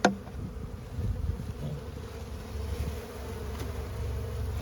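Honeybees drone steadily at a beehive fed with sugar, a close, continuous low buzz with individual bees swelling past, and no talk.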